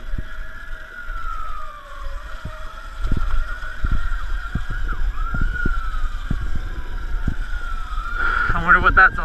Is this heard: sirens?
yes